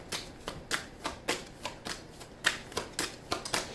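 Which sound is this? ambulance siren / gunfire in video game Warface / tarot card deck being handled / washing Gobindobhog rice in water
tarot card deck being handled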